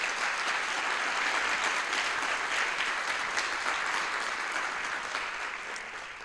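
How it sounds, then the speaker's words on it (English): A college audience claps for special guests at a State of the College event, a dense, steady applause that fades slightly toward the end. "Can we please get a round of applause for all our special guests today?"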